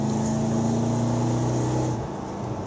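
A 1996 Chevrolet Impala SS V8 drones steadily after a gate shift, a loud, even engine hum that drops slightly near the end.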